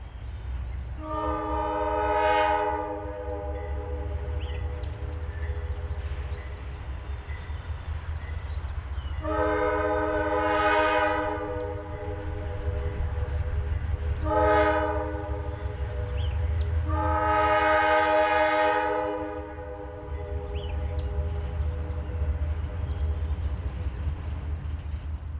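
Eastbound Nashville and Eastern freight train rumbling past, its horn sounding four long harmonic blasts over a continuous low roar of engine and wheels, close and loud throughout.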